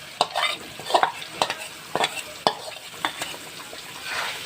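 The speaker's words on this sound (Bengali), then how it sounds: "মশলাটাকে ভালো করে কষে নেব।" Turmeric, coriander, cumin, Kashmiri chili powder, green chili and ginger paste fry together for a fish head curry, with a soft sizzle under a series of close, quick spatula scrapes and knocks against the pan. No voices.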